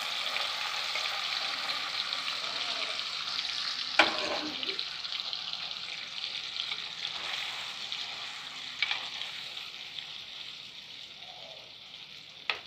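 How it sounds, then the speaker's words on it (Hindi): Marinated paneer pieces fry in mustard oil in a pan with a steady, close sizzle, a sharp clatter as pieces go in, and a few lighter knocks later. "इसे हम इसमें डाल करके हल्का सा भून लेंगे"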